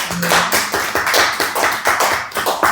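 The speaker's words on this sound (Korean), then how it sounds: "10일 동안 우리에게 은혜 주신 우리 하나님께 영광의 박수를 드리겠습니다." A church congregation at a dawn worship service claps in a fast, even rhythm of sharp, close hand claps that carry on without pause.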